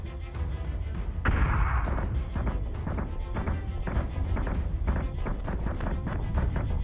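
A missile blast in the video game Deadlock goes off as a sudden booming burst amid rapid, continuous gunfire and crashing combat effects, loud and dense throughout with no talking.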